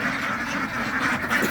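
A large flock of ducks, hundreds strong, quacks in a continuous overlapping chorus at a wetland in rural Bangladesh; the calls are close and steady throughout, with no speech.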